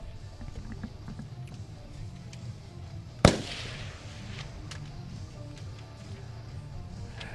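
A single sharp report from an AX-308 7.62mm sniper rifle at a military fire power training exercise, one sudden crack standing out against a low, steady outdoor rumble.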